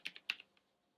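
Typing on a computer keyboard, a few quick crisp key clicks in a brief burst, close but faint, then quiet.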